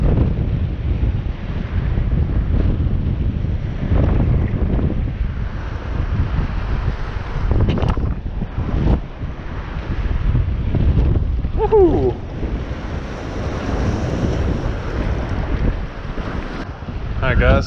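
Strong wind buffets the microphone at Ambleside Beach near the Capilano River estuary, a loud, constant rushing roar mixed with the wash of waves, with a voice breaking through briefly.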